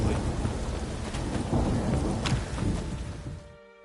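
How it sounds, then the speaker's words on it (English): Steady rain in The Witcher 3 game world, a dense close hiss of falling drops with a few sharper spatters, continuous for several seconds before fading at the end. "Oh, it's drizzly."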